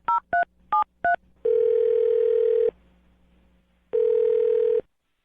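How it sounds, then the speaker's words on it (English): Four quick touch-tone beeps of a phone number being dialed, then two long ringback tones separated by a quiet pause, clear and close on the line. "I'm going to dial his phone number right now"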